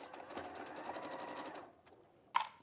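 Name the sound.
sewing machine stitching a cotton seam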